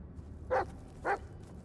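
Two separate barks from a dog in the Blair Witch video game, spaced about half a second apart, fairly distant and subdued over a low rumbling background.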